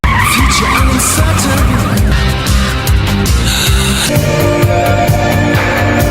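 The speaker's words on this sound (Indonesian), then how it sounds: "Michael pun langsung menuju ke tempat di mana Karnoto berada dengan mobil jadulnya." An old car is driven hard with loud, sustained tire skidding and squealing over a roaring engine, the vehicle close and the noise continuous throughout.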